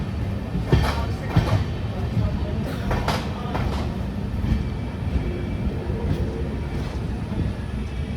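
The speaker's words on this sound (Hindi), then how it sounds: "अब हमारी ट्रेन यहाँ पे सीतापुर जंक्शन पहुँच चुकी है" Special passenger train pulling into Sitapur Junction on an inaugural run from Kasganj to Aishbagh, with a steady low rumble of wheels and carriages, faint rhythmic clicks over the rails and people talking over it.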